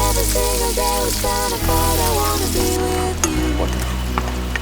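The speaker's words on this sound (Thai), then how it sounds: "เบคอนเราก็เริ่มเกรียมแล้ว" Bacon sizzling in a frying pan, a loud continuous crackle with a low background hum, while a voice talks intermittently over it.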